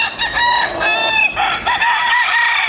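A Cecil Davis bullstag rooster, a battle cross out of a Gilmore hen, crows loudly and close by in one long drawn-out call. Clucking from other backyard fowl carries on underneath.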